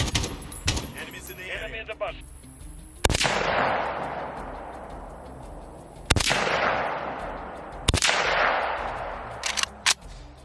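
Single AK-47 gunshots in the Modern Warfare video game, four sharp loud reports spaced a few seconds apart, each trailing into a long echoing decay, with faint clicks in between.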